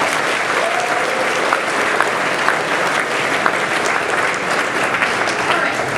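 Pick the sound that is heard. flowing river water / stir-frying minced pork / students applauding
students applauding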